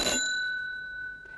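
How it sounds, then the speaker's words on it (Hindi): A hammer-struck electric doorbell gives one bright ding that rings on as a clear, slowly fading tone, heard close and alone over faint background hiss. "If the doorbell rings"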